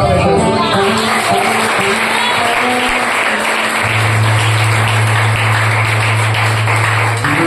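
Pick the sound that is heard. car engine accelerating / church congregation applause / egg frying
church congregation applause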